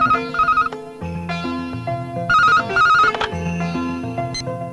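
Telephone ringing in a Hindi-dubbed South Indian film scene: a loud, steady electronic ring repeating in short bursts, heard alone with no talk.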